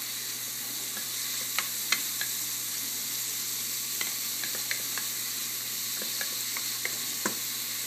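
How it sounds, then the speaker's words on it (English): Onion and celery sautéing in a pan for chicken noodle soup give a steady, close sizzle, with scattered light clicks and scrapes from stirring throughout. "in goes the onion and celery. Stirring that in really well."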